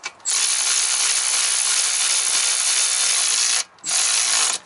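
A ratchet tightens the lower ball joint bolts on a Toyota Camry front suspension: a loud, close, continuous whirring run, a brief pause, then a second shorter burst.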